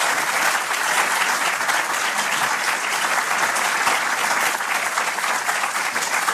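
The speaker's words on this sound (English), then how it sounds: "Can we have a big round of applause for all of our speakers tonight?" Dense applause from a large crowd for the speakers at a debate on gold as money, steady and sustained, with many hands clapping at once and no pauses.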